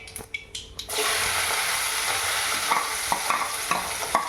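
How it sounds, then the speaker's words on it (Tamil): Small shallots, green chilies and curry leaves drop into hot oil with popped mustard seeds while cooking dried shrimp thokku, setting off a loud, steady hiss and sizzle after a few sharp crackles, with occasional stirring clicks. "கடுகு பொறிஞ்சிருச்சு சின்ன வெங்காயம் பச்சை மிளகா கருவேப்பிலை இது மூணையும்"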